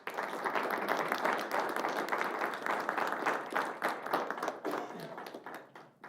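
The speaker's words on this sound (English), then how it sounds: "let's give him a round of applause" Applause from attendees at a Lindon city council meeting, steady broadband clapping sustained for about five seconds before thinning toward the end, with a few voices mixed in.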